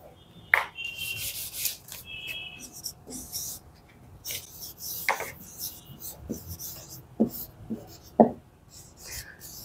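Chalk or marker scratching on a board in bursts of short strokes and taps, close and fairly clear, with quiet pauses between.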